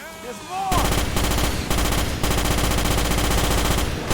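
Rapid automatic gunfire blasts at arachnids in the Starship Troopers video game, dense continuous bursts that start abruptly after a brief lull and hammer on loudly with short gaps.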